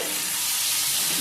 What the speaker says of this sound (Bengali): টমেটো আর পেঁয়াজ একসাথে নাড়াচাড়া করে